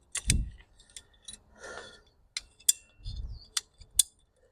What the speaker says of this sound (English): These cutters are so handy, they're so great.